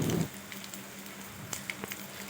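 Garlic, cumin, dried red chillies and curry leaves fry in hot oil for a dal tempering, with a brief louder burst at the start and then a soft, steady sizzle broken by a few sharp pops.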